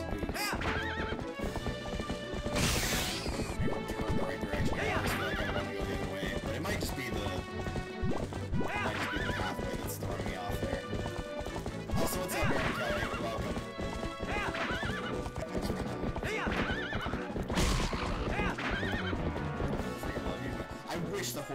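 A horse gallops with steady clip-clop hoofbeats and whinnies several times in Zelda: Twilight Princess, set over continuous game music with some talking.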